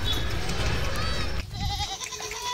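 Goats of Sojat and Hyderabadi breeds, bucks and does, bleat at a farm, a few nearby calls over background murmur and voices.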